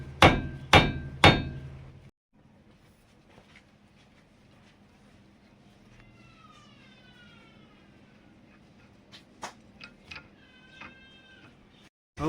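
Three sharp, loud hammer blows strike a car steering ball joint to knock it free, followed by quieter scattered taps and a cat meowing in the background.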